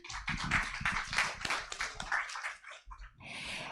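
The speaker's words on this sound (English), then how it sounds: "Please give applause, ladies and gentlemen" Audience applause at an academic keynote lecture in a hall, dense, sustained clapping from a crowd that fades briefly near the end and then picks up again.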